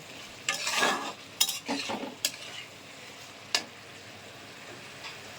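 Water goes into a pan of cooked-down spice mixture with bursts of sizzling and stirring scrapes, then fades to a quiet background hiss, with no talking.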